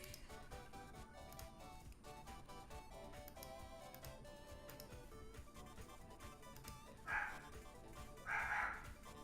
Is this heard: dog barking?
yes